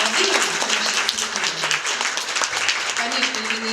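An audience applauds at an awards moment for a dance school in Izmailovo, a dense, steady patter of clapping with a voice speaking over it.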